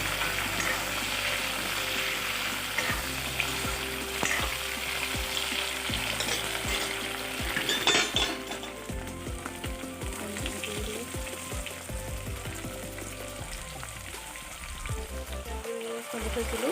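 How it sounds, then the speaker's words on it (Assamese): Potatoes and onions frying in a pan for an Assamese fish curry, a continuous loud sizzle broken by regular clacks and scrapes of a spoon stirring, no talking. "আলু দি দিলোঁ আৰু আলুখিনি ভালকৈ লৰাই লৈছোঁ"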